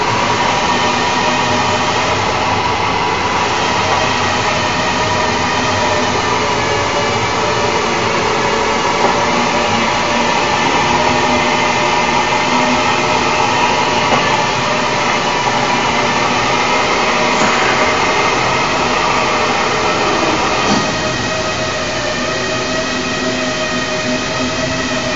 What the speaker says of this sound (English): The rotor is spun at a constant speed for this process.